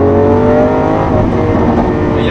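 A Lamborghini Aventador Ultimae LP780-4 with a 780-horsepower naturally aspirated V12 pulls hard, a loud, dense engine drone with stacked tones that holds steady throughout, with no voices.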